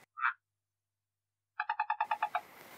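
A toy frog gives a croaking greeting: one short burst, a pause, then a quick run of about eight even, rhythmic croak-like pulses, close and fairly quiet in an otherwise silent room.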